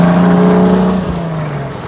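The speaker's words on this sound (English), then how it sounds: "we'll run through the gears a little bit" A 1958 AC Bristol Roadster engine drones steadily from inside the cabin while running through the gears, its pitch sliding down as revs fall, close and loud.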